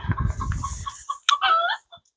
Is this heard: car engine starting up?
no